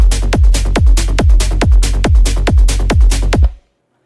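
Acid techno loop with hi-hats, punchy kick drum and bass pounds out a steady four-on-the-floor beat, loud and upfront, roughly eight even hits before stopping abruptly.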